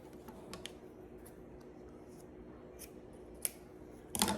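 Scissors cut a clear polycarbonate RC car body in a few sharp snips: scattered faint clicks, then a louder crisp cut near the end, close up and quiet, with no talking.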